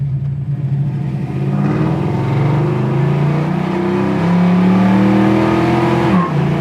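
A 1970 Chevy Nova SS with its choke still on runs loudly and close, a steady rumbling idle that swells as the revs rise, then dips sharply near the end.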